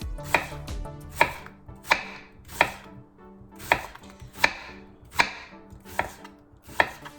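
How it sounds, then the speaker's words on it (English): A long, wide knife slicing an onion thinly on a cutting board for beef ho fun, about ten crisp, evenly spaced chops, close and clear with no talking. "Then we want to slice our onion."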